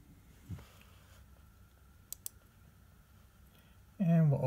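Two quick, sharp computer mouse clicks sound in a quiet room, and a voice starts talking just afterward.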